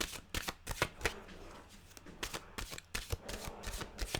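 Deck of mantra cards being shuffled by hand, a quick series of crisp riffling flutters and taps in uneven bursts, close and fairly quiet, with no talking.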